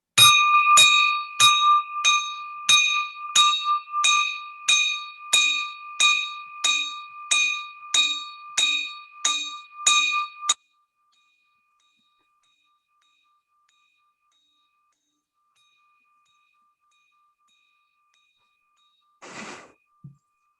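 A bell is struck about fifteen times in a quick, even rhythm at a donation count, each ring short and clear, then long silence before one brief faint ring near the end.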